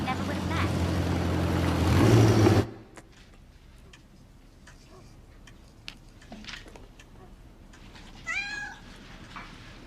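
A pregnant cat named Moji meows close by, a few short cries late in the stretch, after a loud burst of rumbling noise cuts off into quiet with faint ticking.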